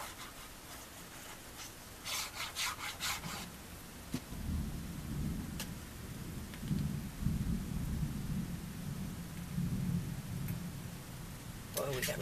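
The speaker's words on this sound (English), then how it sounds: "Boy, we got a lot of thunder out there today." Thunder rumbling outside during a rainstorm, low rolling booms under steady rain hiss, with scattered scraping and rustling from crafting work nearby.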